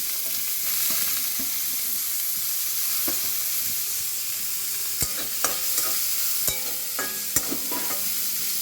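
Onions fry in oil with garlic and ginger for paneer patties, a steady close sizzle broken by repeated spoon clacks and stirring taps in the second half, with no talking.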